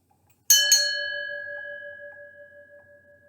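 A single bell is struck once with a bright metallic hit, then rings on as a clear sustained tone that slowly decays over about three seconds, heard alone and fairly close.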